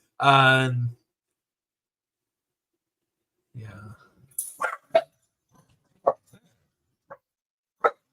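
Dogs barking in the background, a long harmonic bark followed after a pause by a scattered series of short yips and barks, fairly clear against near silence, with a brief spoken word among them.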